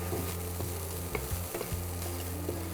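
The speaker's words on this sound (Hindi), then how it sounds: "थोड़ा सा इसको भून लिया जाए पहले हल्का" Mixed vegetables with peppers sauté lightly in a pan. A close, continuous sizzle runs under several quick stirring scrapes and taps from a utensil, with no voices present.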